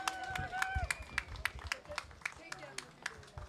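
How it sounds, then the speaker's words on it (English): Faint rhythmic clapping from a small audience at a Special Olympics Over the Edge fundraiser, sharp individual claps in a steady beat with a low murmur underneath. "let's give a round of applause"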